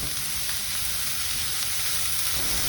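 Chopped shallots with crushed ginger and garlic sauté in hot oil in a pan, a continuous, fairly loud hissing sizzle, close and unbroken, with no voices.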